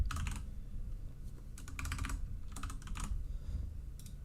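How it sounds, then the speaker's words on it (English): Someone types on a computer keyboard while setting up a PC game stream, with quiet clusters of rapid key clicks arriving in bursts separated by brief pauses. "I'm just typing something."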